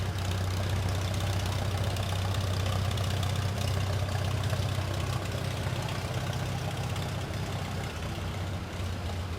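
A 1938 Farmall F20 tractor in a parade of tractors at a Kansas threshing bee runs with a steady, low, throbbing engine chug, continuous and fairly close.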